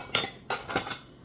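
Spoon clinking and scraping in a mug while Oreo cookies are mashed into warm sweet vanilla almond milk, three short bright bursts close by with no talking.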